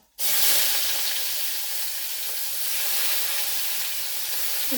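Chopped onions drop into hot oil already holding cardamom, cloves and cinnamon, setting off an abrupt loud sizzle that holds steady and close for several seconds.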